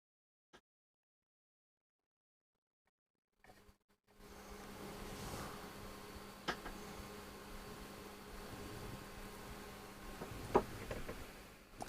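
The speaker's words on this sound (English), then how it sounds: "Can hear some crackling." A 1944 wartime civilian radio receiver warming up, silent at first, then a steady faint hiss and hum rising with sparse soft crackles and a sharper pop near the end.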